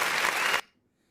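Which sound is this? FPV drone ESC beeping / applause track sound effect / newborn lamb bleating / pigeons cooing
applause track sound effect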